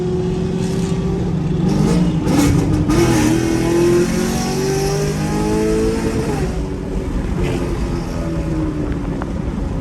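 A Camaro engine revs hard and climbs toward its redline at a car meet, the pitch rising and falling in sustained loud pulls with a steady roar throughout.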